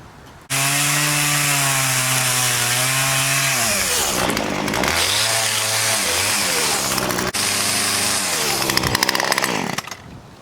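A chainsaw cutting cross notches into a cedar log for a log bridge, engine droning loud and close for about ten seconds, its pitch dropping and rising as the chain bites into the wood.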